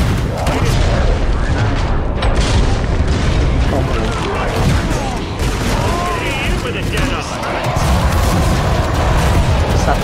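Explosions and gunfire boom almost nonstop in a Killing Floor 2 match, loud and dense, while excited voices shout over the din.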